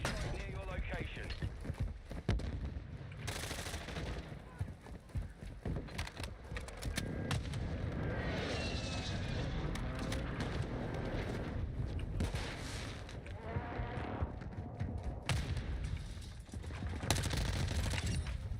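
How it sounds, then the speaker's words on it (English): Call of Duty airstrike: heavy explosions and dense gunfire pound almost nonstop for about eighteen seconds, with sharp loud bursts cutting through a constant rumble and voices talking over the chaos. "Hostile airstrike near your location."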